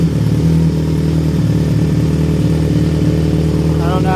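A 2024 Suzuki GSX-S1000 motorcycle with a full Dominator exhaust revs hard and close, a loud, deep, raspy engine roar that stays strong throughout, ending with a rising rev.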